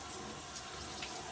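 Tap water runs steadily into a sink to rinse off a face mask, a continuous close splashing hiss with no voices.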